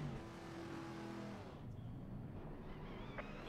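A GT4 race car in Assetto Corsa Competizione at Bathurst gives a throaty engine note, steady at first, then easing back to a softer drone with a brief chirp near the end.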